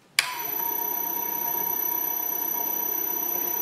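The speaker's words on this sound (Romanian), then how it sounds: "Pornesc motorul." A small electric motor run from a frequency converter switches on with a click and settles into a steady high-pitched whine that holds evenly throughout.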